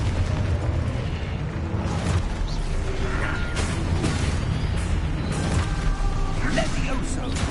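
Confringo blasting spell explosions in Hogwarts Legacy on PS5: repeated bursts and booms amid dense, continuous game combat noise and rumbling effects, loud and cluttered throughout.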